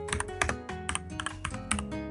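Rapid keyboard typing, a close run of crisp, irregular key clicks and taps with a few heavier strikes, alone and without voices.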